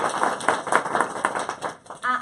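Audience at a live panel discussion applauds, a brisk patter of clapping with uneven bursts, moderately loud and near, fading briefly toward the end before a voice cuts in.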